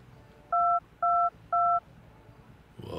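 Three evenly spaced keypad beeps from a new mobile phone sound in quick succession, clear and close, over faint background hum.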